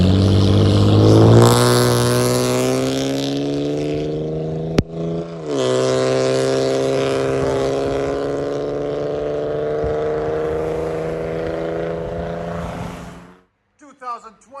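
A 2014 Chevy Camaro with a 3.6L V6 and loud aftermarket exhaust revs up hard, holds a steady droning roar at high rpm, briefly dips and climbs again, then cuts off abruptly, close and loud.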